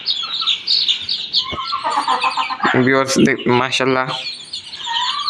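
A flock of baby chicks kept as pets chirps constantly at close range, with high shrill peeps that rise into a dense burst of calls near the middle while someone talks over them.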